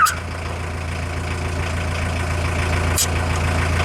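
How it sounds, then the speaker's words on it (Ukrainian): Car engine idles steadily just after starting, a close, even low rumble that holds throughout with a brief click near the end. "Заведем моторчик. Так, антифризла більше мінімума. Отлично. Моторчик завівся."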